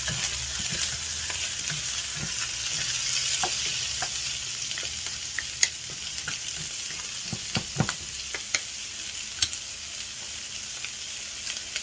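Lobsters fry in a hot pan with hoisin sauce, giving a steady close sizzle broken by scattered pops and crackles, with occasional stirring clatter and no talking.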